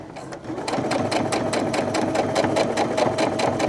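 Sewing machine top stitching a seam at a 3.5 stitch length, a close, steady run of rapid rhythmic needle strokes with a motor whir underneath.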